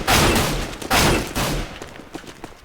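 Three loud, close FAMAS rifle bursts in an aim-training shooter map, each a sharp cracking blast with a short tail, followed by quieter scattered shots and clicks fading out.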